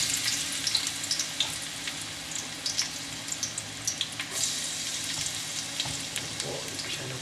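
Garlic sautés in a pan with a quiet, steady frying hiss broken by frequent small pops and crackles spread throughout.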